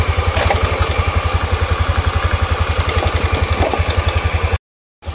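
A noisy carbureted Honda Beat scooter engine idles close by, with a fast, steady putter and a ticking clatter from a worn cam chain tensioner, running evenly until a short silent gap near the end.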